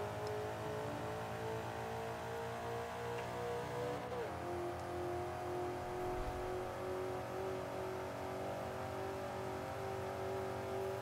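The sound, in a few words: race car engines in Forza 5 video game race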